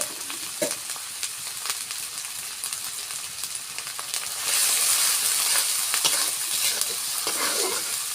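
Onion, ginger and garlic frying for shrimp biryani, a steady close sizzle with stirring scrapes throughout, the hiss growing louder partway through, with no voices.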